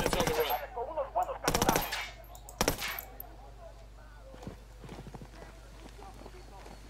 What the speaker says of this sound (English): There's a minigun somewhere.